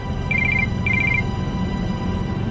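A telephone ringback tone sounds while a call to a husband is placed: two short bursts of rapid, even electronic trills over a steady low rumble, then only the background hum.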